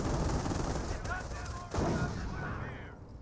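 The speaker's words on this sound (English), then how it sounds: "There is an AT gun here, so he is taking some hits there." Anti-tank gun fire and battle explosions in the Company of Heroes 1 video game, with two loud sharp blasts amid continuous dense gunfire and rumbling combat noise.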